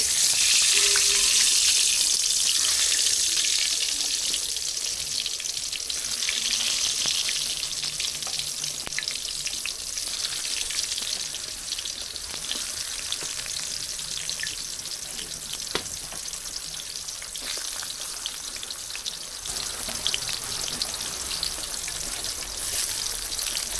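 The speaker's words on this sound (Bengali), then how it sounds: "এখন বেগুনগুলো দিয়ে দেব কড়াইতে।" Eggplant slices fry in oil in a wok with a steady, close sizzle and crackle that stays loud throughout, softening slightly partway as the pieces settle, with light stirring and no voices.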